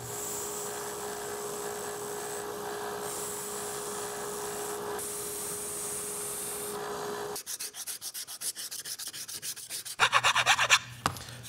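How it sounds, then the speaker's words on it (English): A belt sander grinds material off a prop piece with a steady abrasive rasp, then turns into choppier pulsing bursts of sanding as the work is pressed on and lifted, close and loud. "So I can take this over to the belt sander and remove all that material."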